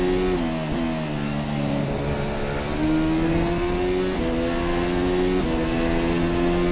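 A Formula SimRacing FSR 2018 development car in rFactor 2 laps Monza, its engine droning loud and close with steady revs and several brief dips and climbs as gears change. No one speaks.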